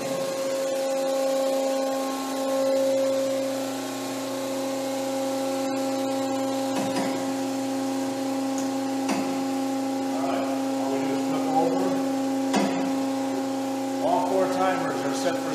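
A two-spindle rotating tub slurry parts finishing machine runs an automatic cycle, giving a steady mechanical hum with harmonic tones and shifting whirring as the spindles work, with a voice occasionally talking over it.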